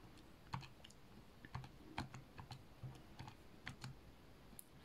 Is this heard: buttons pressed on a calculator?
yes